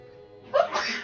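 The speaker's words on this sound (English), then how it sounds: "I'm gonna sneeze." A single sneeze bursts out near the mic after a quiet stretch, loud and sharp with a breathy tail, while a low background hum continues underneath.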